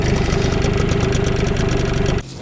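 A small outboard boat motor idles nearby with a rapid, even chugging putter, loud and steady before cutting off abruptly near the end.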